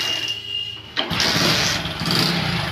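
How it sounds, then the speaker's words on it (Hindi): A motorcycle engine cranks and catches, a short burst of starter noise that turns into a loud, steady running engine close by. "मैं बाइक को यहाँ से स्टार्ट करता हूँ"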